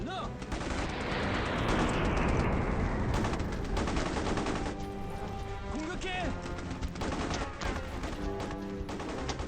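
An artillery barrage in the Mercenaries video game: continuous rumbling explosions and crackling impacts form a loud, dense wall of sound, with sharp bursts scattered throughout and a person talking over it.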